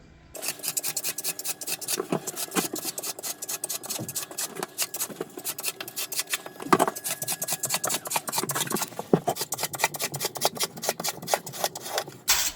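A putty knife rasps steadily as it scrapes and smooths Schluter Kerdi waterproofing membrane onto a shower wall, producing close, continuous gritty scraping strokes with no talking.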